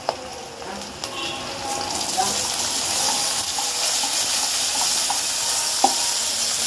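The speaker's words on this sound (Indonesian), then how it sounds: "Kita aduk sampai tercampur dengan bumbu-bumbu ini." Scraping and stirring of fried chicken with spices in a pan over a steady sizzle, with occasional sharp clicks of a utensil against the metal, close by.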